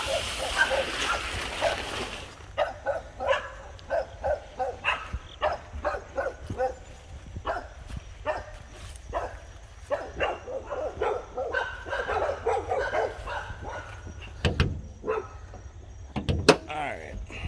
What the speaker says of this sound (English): Oh my gosh, the dogs are gonna be destroying the audio.